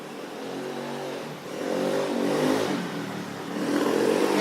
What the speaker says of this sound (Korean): 지금 오토바이 소리가 들리죠?